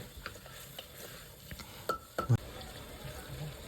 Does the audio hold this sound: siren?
no